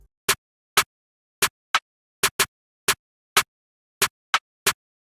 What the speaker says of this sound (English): Then I added this rim.